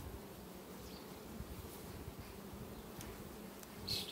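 Honeybees hum around an open hive as a frame is inspected, a low continuous buzzing swarm sound, faint and steady, with a few individual bees passing closer near the end.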